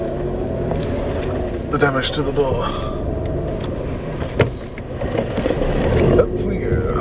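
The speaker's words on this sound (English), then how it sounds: "We are gonna reverse the car onto the driveway." A car reverses onto a driveway with a low, steady engine rumble and a few knocks and bumps, while people talk nearby over it.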